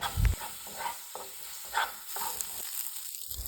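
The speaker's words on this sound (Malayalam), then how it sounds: "2 ടീസ്പൂൺ ഇഞ്ചി പേസ്റ്റും 2 ടീസ്പൂൺ വെളുത്തുള്ളി പേസ്റ്റും ചേർത്ത് മീഡിയം ഹീറ്റിൽ വെച്ച് തന്നെ നന്നായി വഴറ്റിയെടുക്കണം" Ginger and garlic paste sautéing over medium heat in a pan for a Kerala-style prawn curry, a steady close sizzle with occasional stirring scrapes and no talking.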